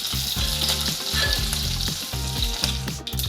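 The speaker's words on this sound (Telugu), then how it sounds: "ఎండు చేపలు ఇలా వేగితే సరిపోతుంది." Dried fish fry in hot oil with a steady, loud, crackling sizzle, and a utensil stirs through the pan at intervals. No voices.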